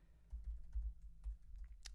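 Typing on a computer keyboard while writing TypeScript code: a short, quiet run of irregular keystroke clicks, close and alone.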